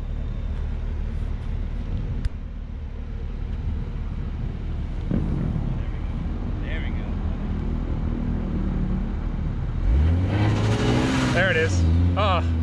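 A 2020 Toyota Supra revs hard with the throttle floored while trying to do a burnout, its engine note surging and climbing near the end amid wind noise, with people talking over it.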